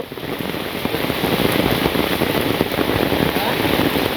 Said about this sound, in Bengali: বৃষ্টি যাইব না মনে হয় না, যাইব